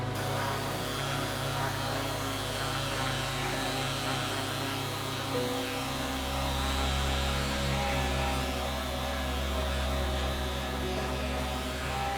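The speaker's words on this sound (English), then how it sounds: "I need to do some sanding first." A power sander sanding wood buzzes and hums steadily, its pitch dropping partway through as the load changes, running continuously and close by.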